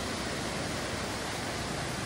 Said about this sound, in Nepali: यो चाहिँ झोडा टाइपको खोला रहेछ बगिरहेको